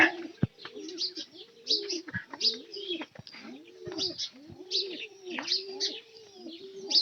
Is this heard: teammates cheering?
no